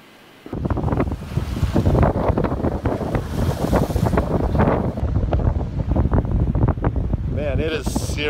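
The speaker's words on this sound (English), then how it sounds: "Man, it is seriously windy today." Strong, gusty wind buffets the microphone with a constant roar, mixed with what sounds like surf; a brief voice-like sound appears near the end.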